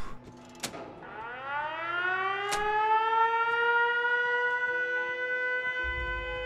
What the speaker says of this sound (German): Objekt mit Energie versorgt. Sirene aktivieren.